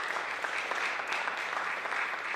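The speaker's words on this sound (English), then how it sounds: "Let's give all of our sponsors a big round of applause" A crowd at a college hall of fame event claps in a steady, even wash of applause, heard somewhat distant and moderately quiet.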